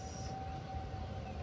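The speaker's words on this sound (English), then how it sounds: "Stupid tornado sirens." A sustained tornado warning siren tone holds steady during severe weather over a low rumbling background, with no voices.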